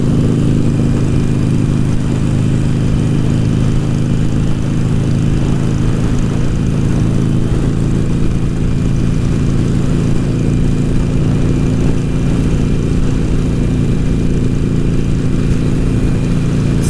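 Motorcycle engine droning steadily while riding on a calm day, a continuous mid-pitched hum with wind rush, loud and unbroken with no voices.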